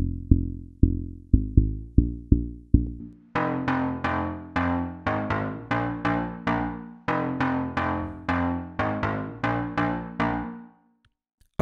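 A house bass loop played on a Boss RC-505 looper with chorus and reverb, starting as a sparse run of plucky low notes, then thickening into a brighter, fuller rhythmic pattern before stopping abruptly; no talking.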